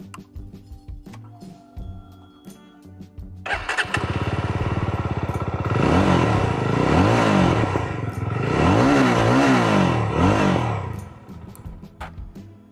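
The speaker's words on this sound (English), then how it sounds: "the Jawa has done a good job with recreating the sound of this motorcycle." Jawa 42 FJ motorcycle engine starts after quiet idle noises, then settles into a loud close idle and revs up twice in rising and falling swells before easing back, with no talk.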